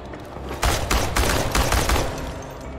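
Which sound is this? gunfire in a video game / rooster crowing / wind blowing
gunfire in a video game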